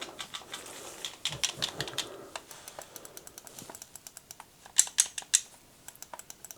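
The buttons on a GameSir G7 Pro WUCHANG Edition controller click in quick, irregular bursts of sharp, crisp taps, close and distinct, with a short pause midway before another run of presses.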